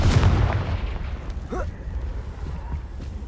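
Confringo spell in the video game Hogwarts Legacy blasts with a heavy, booming explosion up front, followed by a rumbling tail and scattered crackling pops fading under steady background sound.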